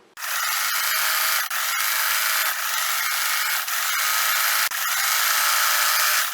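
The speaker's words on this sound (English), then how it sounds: "I'm going to sew down one leg, then I will come back and sew down the other leg" A sewing machine stitches the inseam of fleece pajama pants, giving a loud, steady buzzing whir with a few brief pauses as the fabric is repositioned, close up with no talk.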